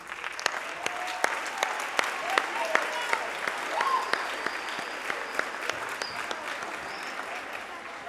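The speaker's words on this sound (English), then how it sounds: "can we give our students a round of applause, please?" Steady applause from a middle school spring band concert audience fills the whole stretch, with sharp individual claps standing out over the dense clapping.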